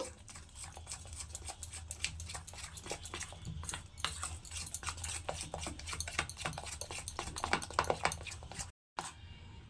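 A spoon scrapes and clicks rhythmically against a bowl while ghee is stirred into a crushed-biscuit cake mixture, a soft, steady series of close strokes with a brief pause near the end.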